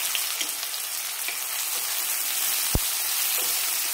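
Onion frying in hot oil with cumin and asafoetida for aloo methi gives a steady, close, bright sizzle, with a few soft stirring knocks and one sharp tap.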